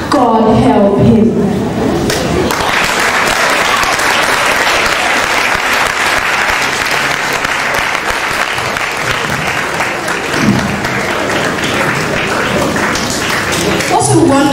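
Sustained applause from a large school drama audience after a monologue, dense steady clapping that swells and holds for several seconds, with a few voices near the start and end.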